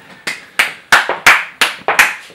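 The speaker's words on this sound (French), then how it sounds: "Applaudissements, standing ovation." Applause at a prize results announcement for a competition: a few separate sharp claps, loud and close, arriving in an uneven rhythm of roughly eight strikes with brief gaps between them.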